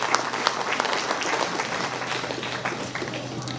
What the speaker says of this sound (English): I would request every one of you to put your hands together and give a huge round of applause to them.